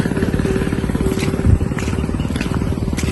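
A motorcycle brought inside a building idles with a continuous rumbling engine, loud and close, with clattering and scraping in the enclosed space.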